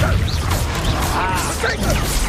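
A Confringo spell in a Hogwarts game lands with a crashing, smashing impact amid busy game effects. Whooshing, warbling magical tones and other clatter run continuously through the short burst.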